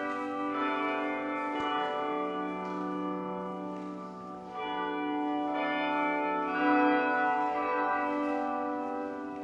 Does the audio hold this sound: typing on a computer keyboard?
no